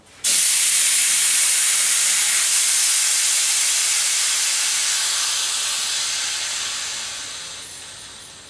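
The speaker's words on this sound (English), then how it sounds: "I release the air pressure by pulling on that ring" Compressed air bursts out of a commercial paint pot's safety valve when its ring is pulled, a loud, sudden, steady hiss that holds for several seconds and then slowly tapers off, no voices.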